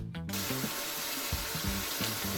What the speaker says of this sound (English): Wash our broccoli, rinse it off.